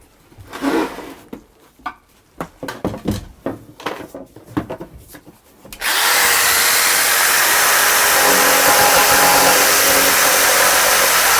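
A loud, steady whirring power tool cuts a scribed template for a van conversion headliner, starting abruptly after several seconds of handling clatter and knocks, then running continuously at close range.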